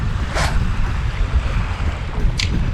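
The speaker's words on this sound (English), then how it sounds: "I'm fishing this much wind, I like to cast directly into it." Strong wind buffeting the microphone beside a pond while fishing, a loud continuous low rumble and roar with a couple of brief gusty hisses, no voices.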